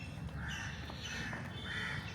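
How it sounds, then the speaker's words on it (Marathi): Crows cawing with other birds calling outdoors on a cold green morning, a few short harsh caws repeating at moderate distance over a low steady background rumble. "पक्ष्यांचा आवाज ऐकू शकता तुम्ही"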